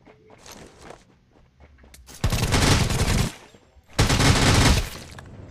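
Two loud bursts of rapid automatic gunfire in a video game, each lasting about a second, with quieter rustling and faint background sounds in between.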